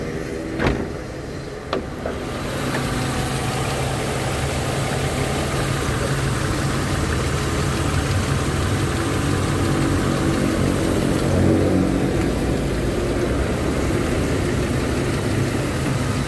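A BMW E36 320 engine idles at a steady low rumble, continuous and fairly close, with a couple of brief knocks near the start and no talk over it.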